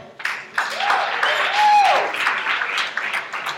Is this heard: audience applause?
yes